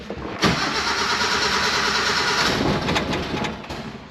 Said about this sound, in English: Let's get the old mini truck fired up.